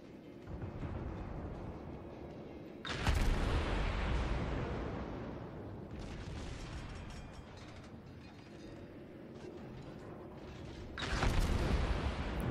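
Heavy naval gunfire booms at the Mogami cruiser in World of Warships, with loud salvo blasts near the start and end over a steady rumbling battle background, no talk.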